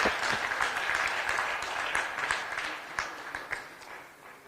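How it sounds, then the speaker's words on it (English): Audience applauds a winning university team at a finance research challenge final in Kenya, a steady burst of clapping from a moderate crowd that rises and thins over a few seconds with sharp individual claps near the end. "Let's give them a round of applause."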